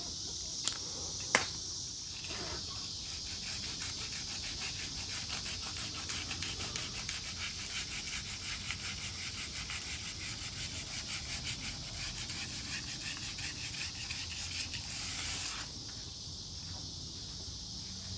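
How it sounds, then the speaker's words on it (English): Rapid, steady scratchy rasping of sandpaper rubbing a Can-Am Ryker tire, continuous for a long stretch after two sharp clicks, then easing off near the end. "Alright, let's get the sanding. I got my sandpaper."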